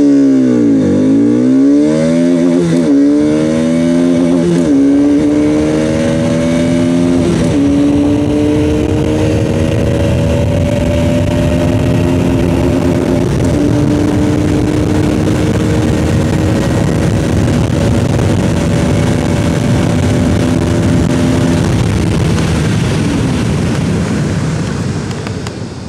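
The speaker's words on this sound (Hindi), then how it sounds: "चलिए फिर शुरू करते हैं acceleration test 2022 Bajaj Pulsar RS 200।" A 2022 Bajaj Pulsar RS 200 motorcycle at full acceleration from a standstill in first gear, engine revs climbing sharply through several quick gear changes, then a long sustained high-speed roar near 125, loud and close, no talk.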